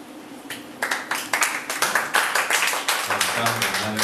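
Applause at a protest rally, with rhythmic crowd clapping building into a loud, regular beat of sharp claps. A low hum or voice enters near the end.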